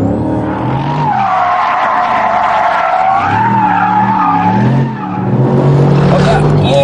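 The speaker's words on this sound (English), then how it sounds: "Oh, that awesome engine really makes this car." A Mercedes SLR drifts on a racetrack, its engine roaring loud and close as the tyres squeal in long sliding sweeps, with someone talking over it.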